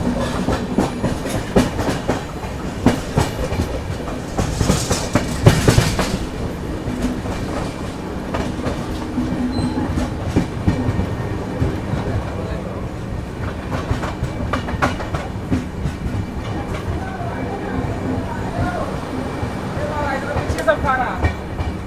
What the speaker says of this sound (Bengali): ওয়াও কি সুন্দর ঘুরছে ট্রেনটা।